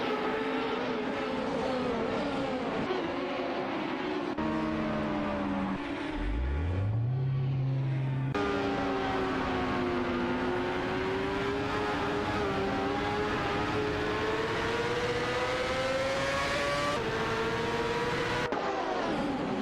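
Race cars, a Penske PC23 and a Lola, lapping an oval in a racing video game. Their engine whines run close and loud, shifting pitch as they speed up and ease off, with one sharp drop and climb midway.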